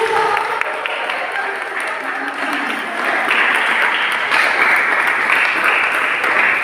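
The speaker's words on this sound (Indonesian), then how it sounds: "Kita tepuk tangan dulu." A congregation applauds during an Easter worship service and awards ceremony, with loud, sustained crowd clapping that swells slightly halfway through and holds steady to the end.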